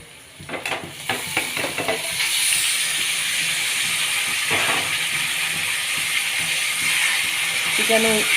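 Chicken goes into a hot pan with a few quick clatters and scrapes, then a loud, steady hissing sizzle takes over and holds to the end, with occasional stirring knocks.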